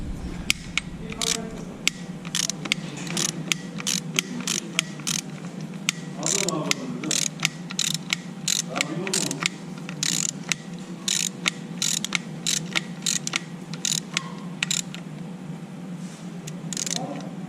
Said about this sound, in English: if you use a 6mm bolt, 3/8 drive socket, we're going to show you how to do so.